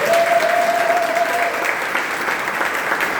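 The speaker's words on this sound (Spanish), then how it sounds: "Denle un fuerte aplauso al Señor" A church congregation breaks into loud, sustained applause, a dense roar of many hands clapping close and steady, with a thin held tone running through the first half.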